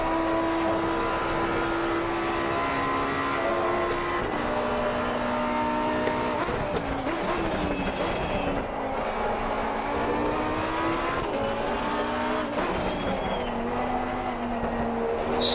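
Race car engine in Assetto Corsa Competizione revs loud and continuous through a chicane, pitch rising and falling with gear changes, while tires squeal and skid at several points.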